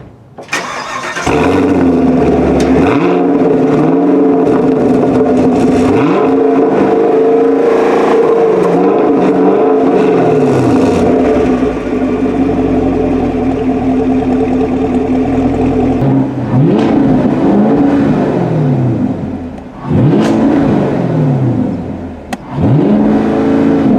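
A 2020 Chevrolet Camaro 2SS with a 455-horsepower 6.2 liter small block V8 cranks to life, then revs loudly and repeatedly through its exhaust, close by, with deep rising and falling throttle blips and brief pauses between bursts.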